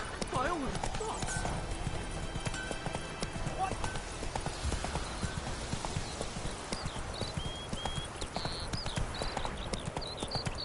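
Rapid clip-clop of hooves from a galloping horse in The Witcher 3, close and continuous, with a voice talking over it and a brief whinny.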